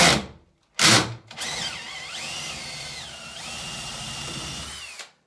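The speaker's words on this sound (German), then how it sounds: "Weil gerade bohren von Hand ist nicht so meine Stärke." A handheld power drill whirs up after two short bursts, then runs steadily for several seconds with its pitch dipping under load before stopping.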